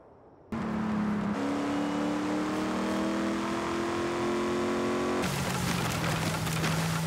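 A 7-liter, 425-horsepower Hemi V8 in a Dodge Dart fires up in the Forza Horizon 5 racing game, holding a loud steady rumbling drone that climbs slightly in pitch, then shifts gear and keeps running.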